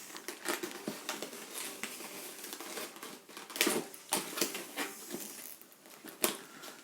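Plastic blister packaging being cut open for a board game unboxing, a run of close crinkling, crunching snips and crackles with irregular bursts, fairly quiet and with no one talking.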